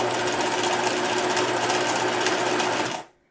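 A sewing machine runs a fast, steady stitching hum along a pillow seam, close and loud, holding an even buzzing rhythm before stopping abruptly near the end.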